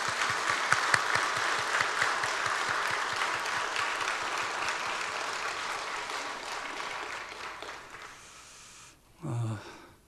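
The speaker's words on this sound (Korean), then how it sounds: "우리 박수하겠습니다." Church congregation applauds at a Sunday service marking the church's anniversary, a sustained, fairly even round of clapping that fades out, followed by a brief low noise.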